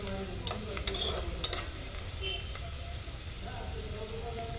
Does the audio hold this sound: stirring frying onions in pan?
yes